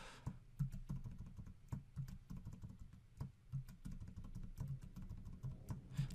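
Steady rapid typing on a computer keyboard, a dense patter of close, fairly quiet key clicks running throughout with no talking.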